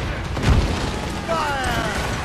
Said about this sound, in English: there is a ship on the other side here shooting at me